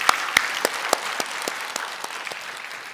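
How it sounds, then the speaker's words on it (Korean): Warm applause from a church congregation at a Sunday worship service: sharp individual claps stand out at the start over a broad wash, then the clapping gradually thins and fades. "따뜻한 박수 다시 한번 우리 감사드리겠습니다."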